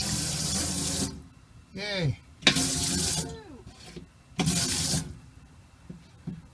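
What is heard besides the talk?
water running from a newly replaced faucet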